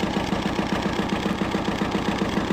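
A tractor engine idles below 1,000 RPM, heard from about five or six feet away as an even, rhythmic low chugging that holds steady throughout.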